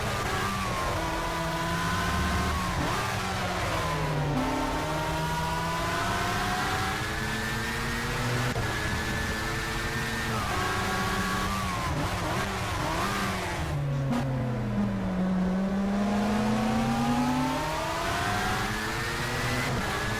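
A race car engine in a racing video game revs hard toward 12,000 rpm, its pitch climbing and dropping through gear changes. The whine is loud, continuous and close throughout, with no talking.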